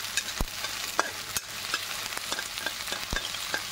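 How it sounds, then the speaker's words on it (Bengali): Onion frying in a pan for an egg bhujia, a steady low sizzle broken by a few sharp scrapes and taps of a spoon stirring, with no talk. "পেঁয়াজটা এখন একটু ভাজা ভাজা হোক"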